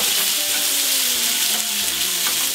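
Burger patties sizzling loudly in a hot pan, a dense continuous frying hiss close up with faint thumps as they are turned.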